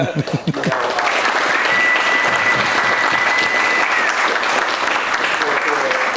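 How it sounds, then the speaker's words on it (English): Spectators at a jiu-jitsu fundraiser at Simple Man Martial Arts applaud John Danaher in a sustained burst of clapping. A voice is briefly heard at the start before the clapping swells, with a faint tone running beneath it. "just give that a round of applause"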